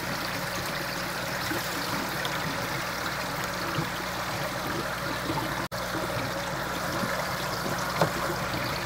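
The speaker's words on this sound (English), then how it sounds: "I like to let the water run back into the settler" Water from an aquaponic system runs back into a settler tank, a continuous close trickle and gurgle that stays even throughout with no voices.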